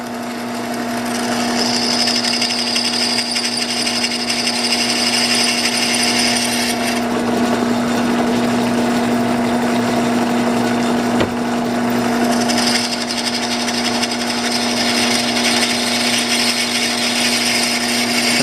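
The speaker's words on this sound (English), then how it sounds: "Like for this I'm using cobalt steel drill bits. That's the best thing for drilling stainless." Cobalt steel drill bits bore into stainless steel, with a little water as lubricant, while fitting Rotopax fuel and water pack mounts to a Royal Enfield Himalayan BS4 motorcycle; a steady, close drill whine runs throughout over a constant motor hum.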